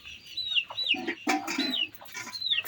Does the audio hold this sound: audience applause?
no